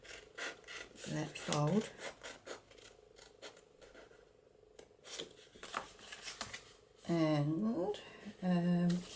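Scissors snip through paper being cut for a handmade journal folio, several distinct rasping cuts in bursts near the start and again toward the end, close up, with a person speaking quietly between and over them.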